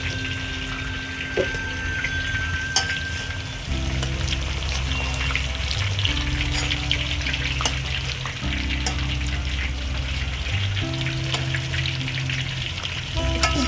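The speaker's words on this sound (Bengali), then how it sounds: "এগুলো সব আমি এরকমভাবেই ভেজে নেব" Fish heads fry with a steady sizzle filling the background throughout, with a low droning hum and occasional clinks; no voices.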